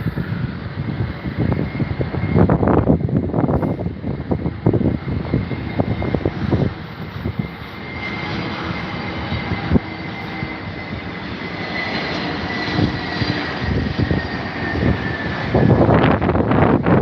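A British Airways airliner passes overhead at London Heathrow, its engine roar loud and steady throughout, swelling again near the end, with wind buffeting the microphone.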